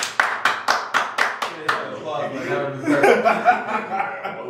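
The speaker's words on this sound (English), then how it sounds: "Everybody clap your hands!" A quick burst of hand claps, about eight sharp even beats, then voices laughing and chattering over the end.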